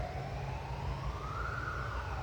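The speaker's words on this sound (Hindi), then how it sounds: "ये देखो आवाज़ आ रही है आपको एम्बुलेंस की" An ambulance siren passes outside, a continuous wailing tone that slowly rises and falls over steady background noise, muffled and somewhat distant.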